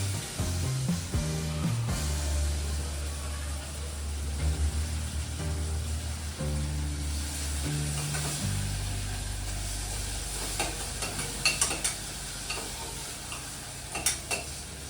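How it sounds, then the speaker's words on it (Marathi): Chili and onion frying in a pan for butter pulav, a continuous sizzle under repeated stirring and scraping of a utensil against the pan, with a few sharper clinks toward the end. "कांदा जो आहे तो पूर्ण फ्राय करायचा आहे आपल्याला."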